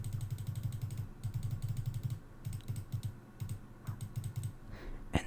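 Soft computer-keyboard typing comes in quick clattering bursts separated by short pauses, close up and quiet, with a faint rustle at the end.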